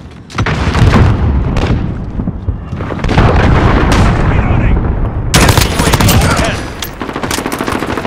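Heavy explosions and dense gunfire from a cruise missile strike in Call of Duty Modern Warfare multiplayer, loud, sustained booms layered with rapid automatic fire, with brief voice callouts mixed in.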